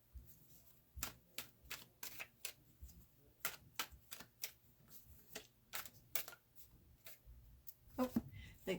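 Tarot cards being shuffled by hand make crisp, rapid riffling clicks in uneven bursts, quiet and close, with a soft voice occasionally speaking between them.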